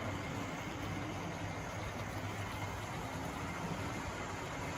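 A vintage 1960s Tri-ang model locomotive, a B12 with smoke unit, runs steadily with a continuous mechanical whirr and rumble as its wheels slip, even and fairly loud throughout.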